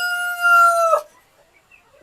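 A Brahma rooster on a rooftop poultry farm finishes a loud, drawn-out crow that breaks off after about a second, followed by near silence.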